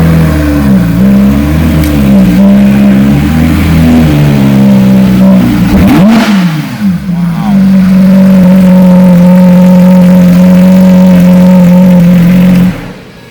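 A 2018 Porsche GT3 with a PDK gearbox revs loudly and close by, its engine note rising and falling before it settles into a steady, sustained drone that cuts off near the end.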